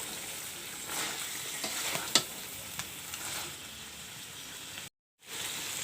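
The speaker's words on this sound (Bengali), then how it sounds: "আমি যেভাবে বাটা মশলা দিয়ে কষিয়ে মাংসটা রান্না করছি" Native duck meat sizzles steadily as it is fried down with ground spice paste, with a few louder stirring scrapes along the way. A brief cut to silence comes near the end, then the frying picks back up.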